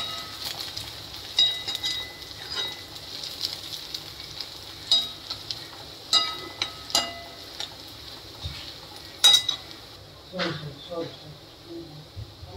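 Green chilies and browning onion fry in a pan, a soft steady sizzle broken by scattered clinks and scrapes of a spoon stirring, fairly quiet and close.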